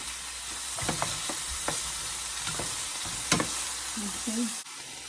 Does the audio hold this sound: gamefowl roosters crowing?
no